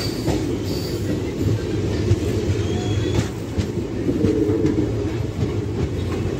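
Sabari Express rolling toward Nalgonda station over a flyover, a steady loud rumble of wheels and carriages with faint squeals and clanks throughout, no voices.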